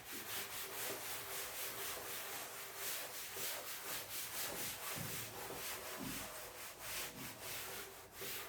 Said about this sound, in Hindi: हम इसको रब कर देते हैं ताकि